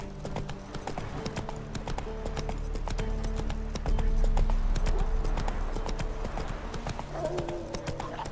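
Horse hooves gallop in The Witcher 3 with a steady, continuous clip-clop rhythm running through the whole stretch, fairly loud and close, over a low background rumble.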